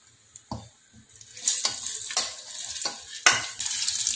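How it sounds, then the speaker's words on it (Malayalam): Green mango pieces sizzle in a pan of hot oil while a utensil stirs them, scraping in repeated strokes with bursts of crackling frying up close; nobody speaks. "നമുക്ക് ഇങ്ങനെ എല്ലാം വറുത്തെടുക്കണം കേട്ടോ."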